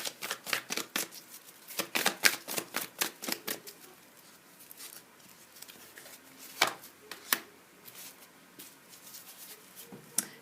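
Tarot cards being shuffled and drawn by hand, with a run of crisp, rapid riffling flicks followed by sparser single card snaps and slides, close and fairly quiet.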